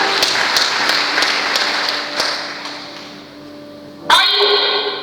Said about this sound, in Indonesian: Tepuk tangan yang mulia bagi Tuhan